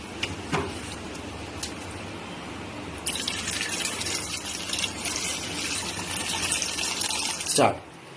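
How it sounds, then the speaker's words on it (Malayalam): Water pours into a pressure cooker while making kootu curry, a rushing, splashing fill that grows louder midway, with a few drips and clinks before and a brief vessel knock at the end; a voice speaks over it. "2 കപ്പ് വെള്ളം ഒഴിച്ചിട്ട് ഇതിൽ വയ്ക്കാം, കുക്കറിൽ വയ്ക്കാം."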